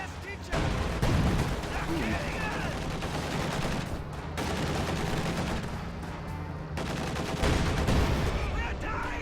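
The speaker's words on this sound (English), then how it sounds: "Two very nice shots from the IS-2 right there." Heavy IS-2 tank cannon shots ring out amid continuous battlefield gunfire and explosions in a real-time strategy game, with bursts of loud impacts near the start and again toward the end under an unbroken din of combat.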